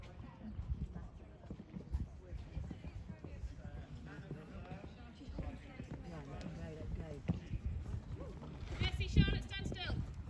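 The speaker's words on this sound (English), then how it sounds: "Donna said, nice and steady canter, but let Bobby do what he has to do." A horse canters steadily at a show, its hooves clip-clopping in a quick rhythm at moderate distance beneath ongoing talk from riders and coaches.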